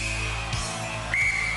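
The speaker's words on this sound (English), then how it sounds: "Paula, you will start on my first whistle. Jean, you will start on my second whistle." On the Gladiators arena floor, a referee blows two loud, sharp starting whistles in quick succession, each a short shrill blast over a busy crowd din.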